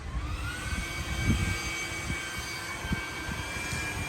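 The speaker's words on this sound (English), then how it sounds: "That little Ryobi handheld blower is very lightweight and very easy to use." Ryobi handheld leaf blower blowing off a front lawn, a steady loud whining roar with a high tonal hum that holds constant throughout with no talking.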